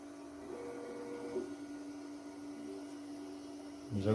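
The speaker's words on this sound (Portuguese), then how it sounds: "Já começou a impressão." 3D printer printing a cylinder: a steady low motor hum with a faint whirring tone, quiet and continuous, with a small bump near the end and no talking.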